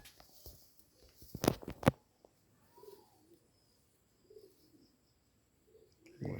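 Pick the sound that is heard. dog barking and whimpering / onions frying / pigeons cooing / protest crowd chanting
pigeons cooing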